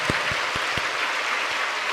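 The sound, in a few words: church congregation applause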